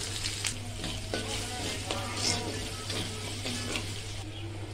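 Ginger sizzles and crackles in hot oil with bay leaves, five-spice and asafoetida while cooking a Bengali cabbage ghonto, a steady close frying hiss with occasional stirring.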